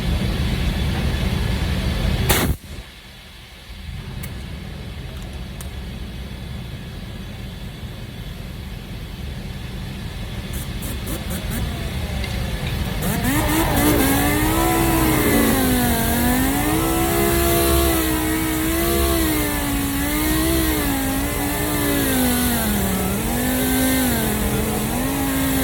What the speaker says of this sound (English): I'll buzz over with a DA with 80, 120, 180.